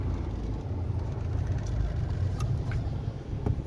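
A car moving at low speed in first gear during a driving lesson in Jaipur, a steady low engine and road hum throughout with faint clicks and rustles inside the cabin, no distinct revving.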